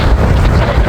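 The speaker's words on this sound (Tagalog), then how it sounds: "lakas ang hangin." Strong wind buffets the microphone outdoors in a loud, steady roar of broadband rush, with no voices heard during this brief stretch.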